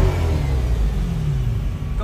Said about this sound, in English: Revving the C8.